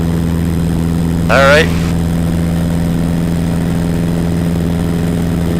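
Small propeller airplane coming in to land, its engine a steady, close droning hum throughout, with a brief spoken word partway in.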